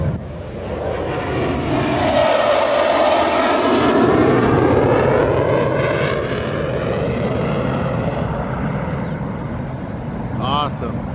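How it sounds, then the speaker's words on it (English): A jet aircraft flies over a crowded beach air show at Huntington Beach, its engine roar swelling loud and sweeping in pitch as it passes overhead, then slowly fading with crowd noise beneath. "Here comes the jet."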